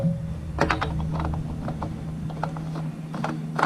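A motorcycle oil filter being threaded back on by hand on a Triumph Explorer XCA, giving a run of small close ratchety clicks and mechanical ticks over a steady low hum.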